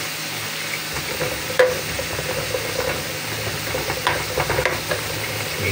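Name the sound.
chili added to a frying pan, sizzling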